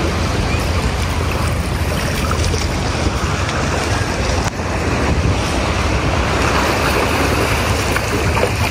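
Ocean waves at Bira beach in the morning: a constant loud wash of surf mixed with wind buffeting the microphone, with no voices.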